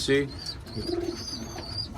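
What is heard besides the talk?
homing pigeon cooing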